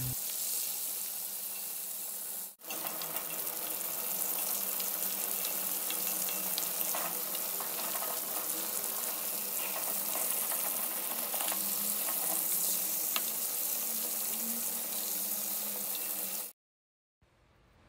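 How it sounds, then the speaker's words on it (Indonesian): Fish frying in a pan while cassava leaves cook nearby, giving a steady, dense sizzle and crackle that runs unbroken for about fifteen seconds after a brief dip near the start, with no talking. "kita goreng ikan juga."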